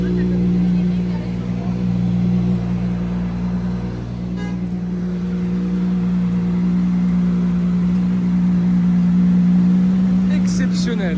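Cosworth V12 hypercar on the streets of Cannes, a loud, steady low engine drone running without a break from start to finish, with voices talking over it.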